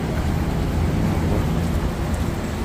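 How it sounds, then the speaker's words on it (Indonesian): Steady, fairly loud rain begins falling during a midday storm in Mecca, a dense broadband wash of drops continuing without break and with no voices. "Sudah mulai mau turun hujan sepertinya."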